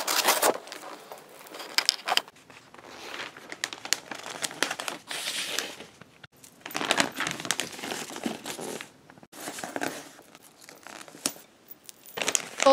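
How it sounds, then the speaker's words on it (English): Wrapping paper is cut and handled for gift wrapping, producing bursts of crisp crinkling and rustling close up, separated by brief pauses, with no talking. "Cut the wrapping paper as much as needed."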